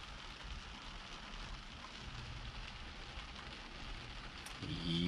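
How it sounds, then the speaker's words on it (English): Steady rain falls outdoors on a wet day, an even, close patter on surfaces that continues throughout, with no voices. "Can you hear the rain?"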